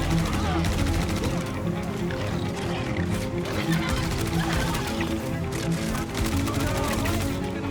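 Gunfire in the video game Star Citizen during a fight, dense and continuous rapid shots throughout, mixed with game effects and heavy background noise.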